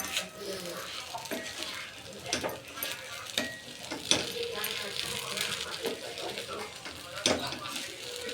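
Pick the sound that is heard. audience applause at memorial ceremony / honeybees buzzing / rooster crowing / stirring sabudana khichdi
stirring sabudana khichdi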